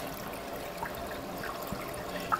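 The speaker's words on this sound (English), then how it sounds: "But basically, water flows down here" Water from a saltwater reef aquarium overflow runs down into the sump below, a steady close trickle and dribble with small splashes and occasional drips popping out of the flow, and no one speaking.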